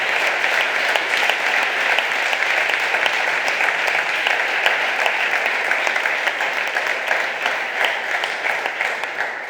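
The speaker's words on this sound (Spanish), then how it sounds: "quería pedir un enorme aplauso para los compañeros de las Juventudes Socialistas de Ceutí" Loud, dense applause for the Socialist Youth of Ceutí at a political rally, sustained and steady throughout with no break.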